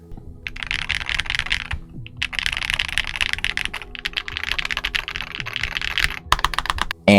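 Typing on a Sikakeyb x Gateron HM80 Hall Effect keyboard: close, steady bursts of crisp keystrokes in quick rhythm, with a brief pause near two seconds and a sharper clack at the end.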